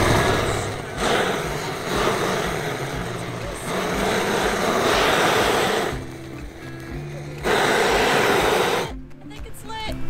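A liquid-fuel camp stove burner catching and flaring up during non-electric van camp cooking, giving a loud, close, rushing roar that surges in bursts, drops back briefly near the middle and again toward the end, with faint voices in the background.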